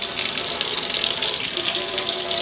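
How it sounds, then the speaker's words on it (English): Water runs steadily from a hot water tap into a kitchen sink, a continuous close hiss and gush with no talk. "open up my hot water spout"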